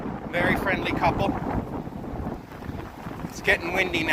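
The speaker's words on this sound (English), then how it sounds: "It's getting windy now." Gusty wind buffets the microphone in bursts on a San Francisco cable car ride, with low rumbling thumps as people talk nearby.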